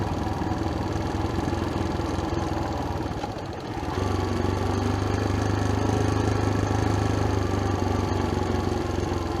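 A locally modified, shortened motorcycle passes on a rural road with a steady mid-pitched engine drone, dipping briefly before the engine note settles back in, louder and even, with no talk.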